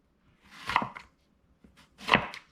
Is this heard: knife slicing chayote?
yes